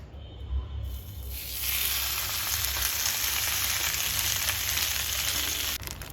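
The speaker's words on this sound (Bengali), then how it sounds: "এবারে আস্তে করে এই কলার পাতাটা ধরে তাওয়ার উপরে বন্ধুরা আমি মাছটা বসিয়ে দেব" Fish wrapped in banana leaf sizzles on a hot tawa, starting quietly and then swelling into a loud, steady frying hiss that holds for several seconds with no talking.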